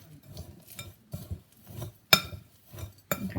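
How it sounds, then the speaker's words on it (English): Semi-sweet chocolate chips stirred into dry cookie ingredients in a bowl, a spoon scraping and clinking against the sides in several short bursts with brief pauses, close and fairly quiet. "Stir those all together."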